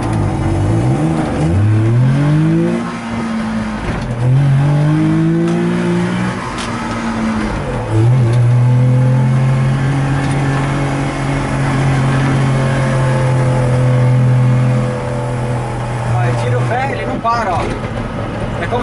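A DKW Vemaguete's small engine revs up and settles repeatedly, its pitch rising and falling in smooth sweeps close by, while someone speaks Portuguese over it.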